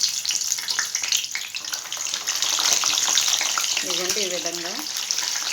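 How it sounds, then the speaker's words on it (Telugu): Brinjal slices deep-frying in a pan of hot oil for brinjal bajji, giving a steady close sizzle throughout with a brief bubbling burst near the end, while a voice speaks over it. "ఇప్పుడైతే చూడండి ఇది వేడైంది కదా, ఇందులో ఈ వంకాయలను అయితే ముందుగా వేయించుకున్నాం అండి."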